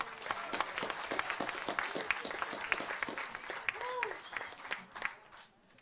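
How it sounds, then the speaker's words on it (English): An audience at a Native American honoring and remembering gathering applauding a guest speaker, a dense sustained wash of clapping that fades toward the end, with faint voices underneath. "I'd like to give you a round of applause for the courage you have there"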